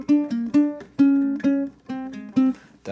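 Ukulele strums the short repeated rhythm of In the Hall of the Mountain King, crisp plucked chords in a straight, even pattern, played close and alone.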